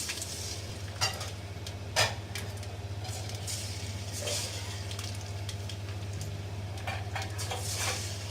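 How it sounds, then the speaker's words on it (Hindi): Chicken pakora pieces go into hot oil on a low flame, with a few metallic clinks of utensils over a low, steady frying sizzle and a background hum. "हम इसको फ्राई कर लेंगे। और हमारा गर्म हो गया, हम इसमें चिकन ऐड करेंगे।"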